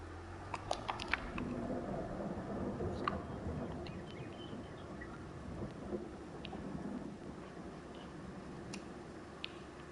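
Steady rain hisses through a Farming Simulator 22 farm scene, with a few faint, distant rumbles of thunder and scattered ticking drops, all fairly quiet and continuous with no talk.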